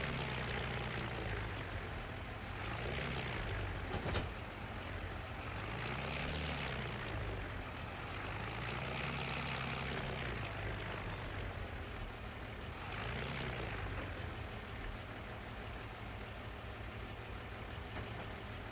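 A tractor engine in Farming Simulator 25 drones steadily and loudly throughout, its pitch rising and falling in slow waves as the revs change, with no voices over it.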